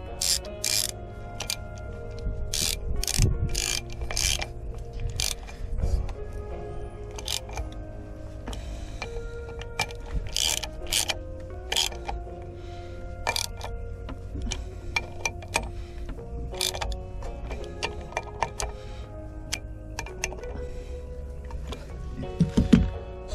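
A ratchet tightening bolts on the water circulation pump of an OMC 140 boat motor, rapid clicking bursts repeating close up in irregular runs with scattered metal knocks between them.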